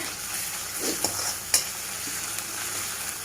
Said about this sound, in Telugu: చూడండి ఈ అల్లం వెల్లుల్లి పేస్ట్ కాస్త అట్లా వేగిన తర్వాత